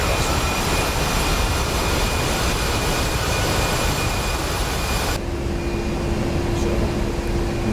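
Steady, loud, broadband roar of an aircraft in flight in the DCS flight simulator, unbroken throughout, with a faint steady tone emerging near the end.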